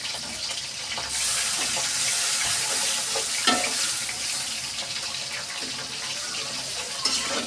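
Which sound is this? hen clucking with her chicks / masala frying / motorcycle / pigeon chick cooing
masala frying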